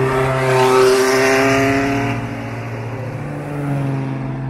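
A De Tomaso Pantera sports car drives past on a Tour Auto road event, its engine note loud and close with a strong harmonic drone that rises and then eases as it moves by, with no talk over it.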